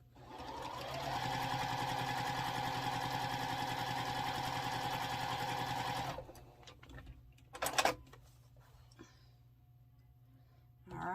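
A sewing machine stitches a sampler quilt block in a loud, steady close run for about six seconds, then stops, followed by a brief clatter and a quiet spell with no talking.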